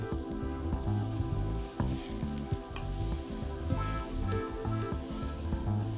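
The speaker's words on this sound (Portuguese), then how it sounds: "os cogumelos já estão levemente refogados" Steady sizzling of mushrooms, including shiitake and shimeji, sautéing in butter in a hot pan, continuous and close, with occasional stirring scrapes and no talking.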